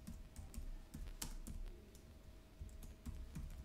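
Rapid computer keyboard typing in uneven bursts of clicks, entering text into a Canva design box, close and moderately loud with no talking.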